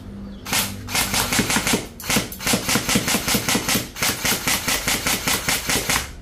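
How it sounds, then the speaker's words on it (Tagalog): A modified HK416 airsoft rifle fires on semi-auto: sharp, close, loud shots in quick, even succession, with two short pauses between strings. "So yan, semi,"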